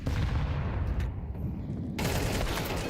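Rapid automatic gunfire in Counter-Strike, a FAMAS trading shots with an AK during a PGL Cluj-Napoca 2025 match, loud dense bursts filling the whole moment with no talking.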